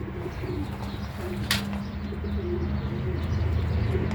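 Soft low cooing from a young homing pigeon repeats quietly beneath a steady background hum, with a brief sharp rustle partway through.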